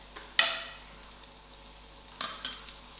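Butter melting in a non-stick frying pan over moderate heat gives a soft, steady sizzle, with two brief sharp clinks of a utensil against the pan.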